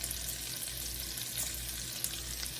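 Garlic and onion fry quietly in a pan, a soft even sizzle with faint occasional stirring, steady and low in level.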